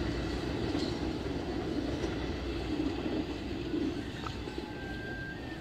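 The Argo Parahyangan passenger train arriving, a steady low rumble and clatter of rolling cars with a faint brief whistle-like tone near the end, heard from trackside.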